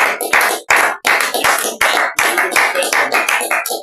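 A church congregation applauds in praise, with dense, steady clapping from many hands that comes in short rhythmic surges, loud and close throughout.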